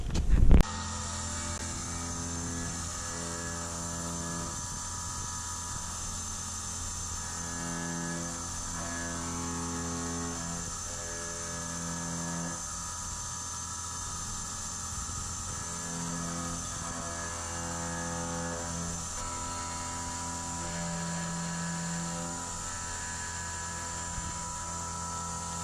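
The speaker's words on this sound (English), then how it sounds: "So at this point that your wheels is already in the machine," A wheel-processing machine runs steadily with wheels loaded inside, giving a continuous mechanical hum with layered tonal whine and faint ratcheting. It stays at an even level throughout after a brief louder start.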